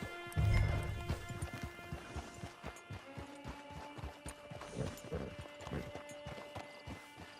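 Steady clip-clop of horse hooves at a walking pace, close by, with a brief louder rustle near the start, in Red Dead Redemption 2 Online.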